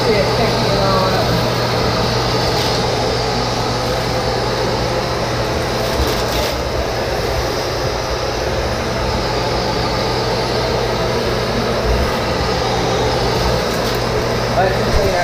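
A Eureka FloorRover vacuum cleaner running continuously, a loud steady motor drone with a constant low hum and broadband airflow hiss, while a person speaks over it.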